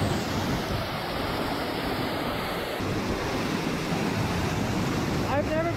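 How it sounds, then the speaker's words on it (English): Rushing water at Ravana waterfall in Ella, Sri Lanka, a steady broadband roar filling the whole clip from up close, with wind buffeting the microphone and no clear talk over it. "So we are now in Ravana waterfall."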